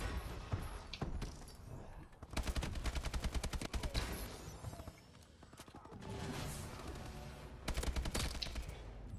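Walker tanks firing in Call of Duty: Advanced Warfare, with heavy rapid machine-gun bursts in long rattling volleys, loud and close, separated by brief rumbling lulls.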